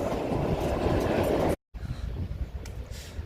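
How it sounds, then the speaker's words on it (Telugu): A Kalka–Shimla toy train at Shimla railway station gives a steady, loud rail rumble with a faint clatter that cuts out completely for a moment, then resumes slightly quieter, with no talking. "ఇప్పుడే మనం సిమ్లా రైల్వే స్టేషన్కి అయితే వచ్చేసామండి."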